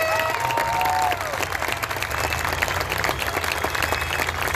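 A large crowd at a Back the Blue rally applauds police officers steadily, dense clapping filling the space, with a few faint tones sounding underneath near the start.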